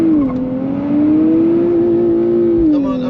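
A 2024 Nissan Z held at full throttle, a loud, sustained engine drone with a steady pitch that sags briefly, climbs, then dips again near the end, heard from inside the car without speech.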